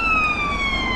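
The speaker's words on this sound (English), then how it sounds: "we're near the ambulance station, so that's probably why we've got so many ambulances coming out" Ambulance siren near an ambulance station, a loud wailing tone with strong harmonics sliding slowly downward as it passes, with road noise beneath.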